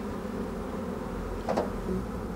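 Bees swarm around hives while a beekeeper smokes them with fir-shaving smoke, a dense steady buzzing up close with a brief louder swell partway through, no talk.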